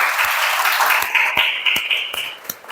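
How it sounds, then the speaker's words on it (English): A classroom audience claps for a student after a presentation in a teaching session. The applause is dense and fairly close, with a few sharper individual claps standing out as it tapers. "Give applause to Amri."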